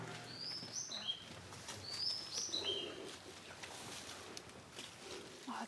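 Eastern bristlebird making short, high, sweet chirps and whistles in a few quick bursts, faint and fairly close, over quiet outdoor background.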